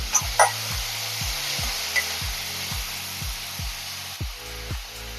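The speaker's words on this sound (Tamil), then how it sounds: "ஒரு தக்காளி பொடியாக கட் பண்ணி போட்டுக்கோங்க நல்லா வதக்கிக்கலாம்" Chopped tomato sautés in a pan for a black chickpea kurma, a steady close sizzle with repeated rhythmic scrapes and knocks of a spoon stirring.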